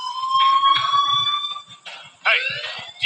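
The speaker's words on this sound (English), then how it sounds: "Hey, do you hear that fire alarm?" Electronic fire alarm ringing in the video game Life Is Strange, loud repeated tonal blares with brief gaps and a low rhythmic pulse underneath, no talking.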